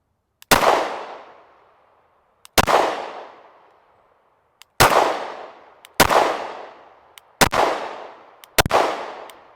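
Six sharp gunshots on a shooting range during a trigger-reset drill, fired in an uneven rhythm, each one loud and close with a ringing decay, and a faint click of the trigger resetting just before several of the shots.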